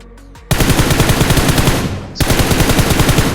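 Rapid automatic gunfire in the video game BGMI (PUBG Mobile), in two long, loud bursts separated by a brief pause, each a dense stream of shots.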